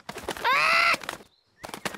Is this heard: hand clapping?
no